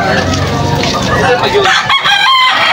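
A seven-month-old Gilmore Gray stag crows loudly and close at a busy Sunday rooster market in Malolos, Bulacan, its harsh cock-a-doodle-doo rising over clucking fowl and crowd chatter.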